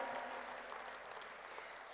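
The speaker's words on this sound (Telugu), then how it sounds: "ఒక్కసారి గట్టిగా చప్పట్లతో వాళ్ళందరికీ కూడా థ్యాంక్ యూ తెలియజేసుకుందాము" A crowd at a World Telugu Federation gathering attended by the Telangana Chief Minister claps steadily, a sustained wash of applause that sounds somewhat distant and even.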